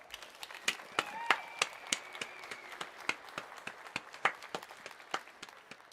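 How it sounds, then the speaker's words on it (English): Scattered clapping from a small group at a live game launch event, light and uneven, with individual claps audible rather than a full roar of applause. "Please join me in giving the team a round of applause."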